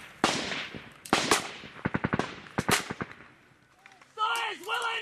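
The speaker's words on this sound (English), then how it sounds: "We get some people up here to put some covering fire in." Covering gunfire from Australian soldiers' weapons in a firefight in Afghanistan, a string of loud, sharp shots in irregular bursts and single cracks, followed by a voice shouting.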